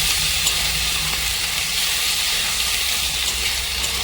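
Ground spice paste of green chillies frying with chicken trimmings and stomach in a pan, a dense, even sizzling hiss at close range that holds steady throughout with a low hum beneath.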